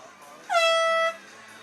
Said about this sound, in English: All right, sound that air horn.